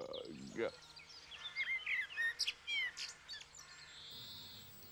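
Cartoon birds sing in a children's programme, a series of bright chirps and short whistled trills that come in quick bursts, followed by a sustained high whistle, fairly close and clear against a quiet background.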